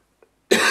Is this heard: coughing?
yes